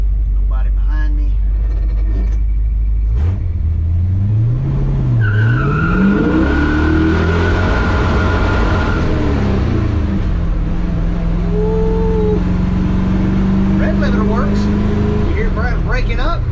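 A 1966 Chevy C10 pickup with PerTronix ignition accelerates hard, its engine note rising steadily in pitch over several seconds, then breaking up and falling back to a lower steady drone, loud and close with no talk.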